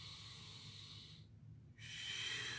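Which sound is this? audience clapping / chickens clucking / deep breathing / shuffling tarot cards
deep breathing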